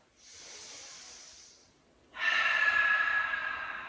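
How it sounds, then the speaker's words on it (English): Two deep breaths heard close up at the end of a yoga practice: a long, soft inhale through the nose, a pause, then a louder, breathy exhale through the mouth. "Let's take a couple nice big inhales through the nose and exhales through the mouth"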